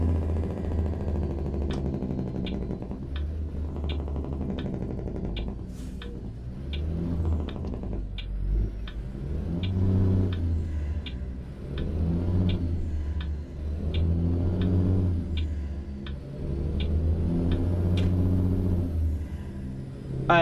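Freightliner FLD truck with a 455-horsepower engine pulling a dry bulk tanker in American Truck Simulator, a steady low diesel rumble droning throughout with rhythmic swells and faint periodic clicks above it.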